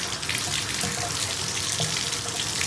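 Water running steadily into a bathtub while a sink stopper and drain parts are scrubbed clean, a continuous close splashing gush with small clinks and movements underneath.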